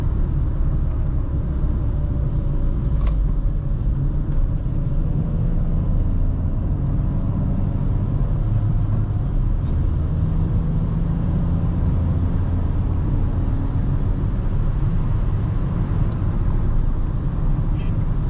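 A 2020 Dacia Duster running on LPG drives through a curve, its steady low engine and road rumble heard from inside the cabin, loud and continuous throughout.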